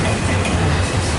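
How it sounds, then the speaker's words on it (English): A train passes close by with a loud, steady, broadband rumble and rolling roar and no break in the noise. "I'm catching 3 trains right now."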